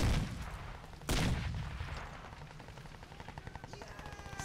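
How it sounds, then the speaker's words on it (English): Crysis 2 multiplayer combat: a sharp blast at the start and a second heavy boom about a second in, followed by a steady rattle of distant gunfire with faint, brief mechanical tones near the end. "Some explosions over there."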